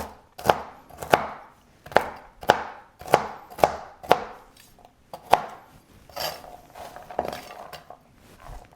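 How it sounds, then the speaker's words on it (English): A knife chops roasted pecans on a board in a series of crisp, distinct knocks at a steady rhythm, close and loud, thinning into softer scraping taps near the end. "Can roughly chop it."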